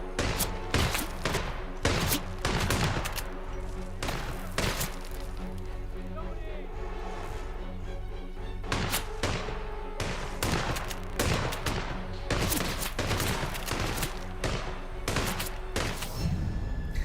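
Rapid bursts of gunfire in Hitman, dense and repeated across the whole stretch, with short pauses between volleys, under someone talking.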